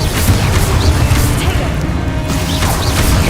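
A Confringo blast spell in Hogwarts Legacy detonates with loud crashing booms amid a chaotic run of repeated impacts and bursts, close and heavy throughout.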